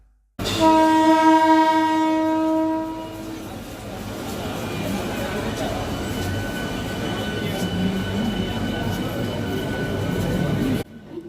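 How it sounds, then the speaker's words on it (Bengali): Train on the Howrah–Bardhaman main line sounds a loud, sustained horn at the start, then rumbles steadily along the rails for several seconds at close range, with some voices in the background. "সঠিক সময়ে হাওড়া বর্ধমান মেন লাইন শাখা ট্রেন ধরে এগিয়ে চললাম"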